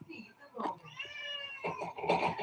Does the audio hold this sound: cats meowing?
yes